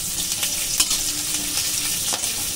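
Five-spice seeds, chopped garlic and green chilli fry in about two spoons of cooking oil, giving a constant bright sizzle with occasional spoon stirs and small pops, close and loud.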